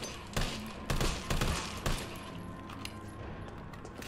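Gunfire in Resident Evil 3 Remake: a few sharp, close shots at irregular intervals over a busy, rumbling game background, then quieter ambience.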